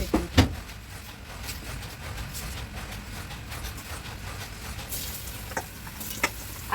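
Potatoes frying in a pan, a soft continuous sizzle broken by several sharp clicks and knocks of a utensil against the pan.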